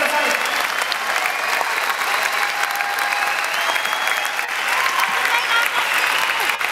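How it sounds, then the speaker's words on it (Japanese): Loud, sustained applause from a large crowd at a sumo retirement hair-cutting ceremony in Ryogoku Kokugikan hall, dense and continuous throughout. "大きな拍手をお送りください。"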